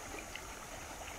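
Clear river water streaming steadily along a shallow flowing channel, a soft, faint, continuous rushing and trickling with no voices over it.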